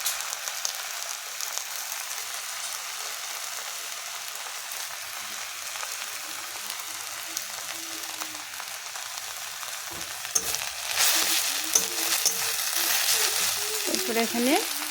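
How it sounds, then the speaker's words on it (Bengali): Drumstick (moringa) leaves and greens frying gently in a pan, a low, continuous sizzle that swells louder near the end as the greens are turned, with faint stirring scrapes. "তারপর আমি এর মধ্যে শাকগুলোকে দিয়ে দিলাম। হালকাভাবে নেড়ে চেড়ে নেব।"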